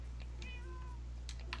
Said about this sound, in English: Oh, my cats are here in the Pog Army Tower